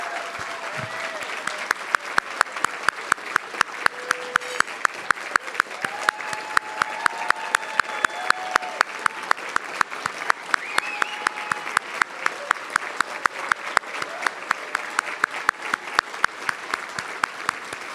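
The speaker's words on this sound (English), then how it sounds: "Can we give her a big round of applause?" Sustained applause from a keynote audience at an anniversary event, steady and fairly close, running for the full stretch with dense clapping throughout.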